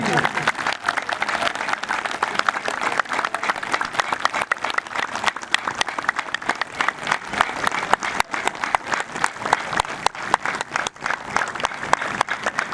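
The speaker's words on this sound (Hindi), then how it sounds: "फिर से एक बार तेज करें ताली को" A crowd at an International Yoga Day gathering in a garden claps continuously, in a long, dense stretch of rapid hand claps with an instructor's voice speaking over it.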